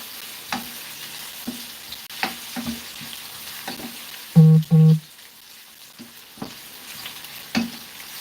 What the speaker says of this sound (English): Gonna keep frying this.